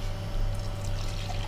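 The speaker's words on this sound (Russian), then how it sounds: "Берем и отливаем часть воды." Hot water is poured off during the brewing of Shu Puer tea, giving a steady, soft trickling stream close by with no talking.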